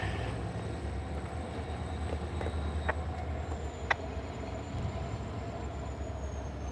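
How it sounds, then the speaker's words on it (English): A CSX remote control switcher locomotive approaches from a distance, heard as a faint low rumble of rail traffic with occasional metallic squeals and clanks, no talk. "Here comes our remote control switcher."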